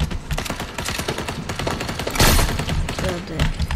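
Rapid bursts of automatic gunfire in a Fortnite match, loud and close, with a dense rattling fusillade and one heavier blast midway, voices talking faintly underneath.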